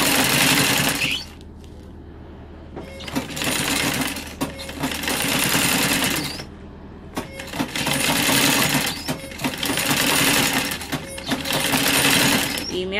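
A treadle pedal sewing machine runs in loud, close bursts of rapid mechanical clatter, speeding and pausing in several runs over a steady low hum.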